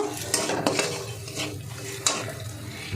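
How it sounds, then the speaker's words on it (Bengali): Potatoes stirred and sautéed in a pan with spices, ginger, green chilli and cashew paste: steady scraping and stirring with soft sizzling, a few sharper clinks of a utensil against the pan, close and alone. "মশলার সঙ্গে একটু আলুটা কষিয়ে নেব।"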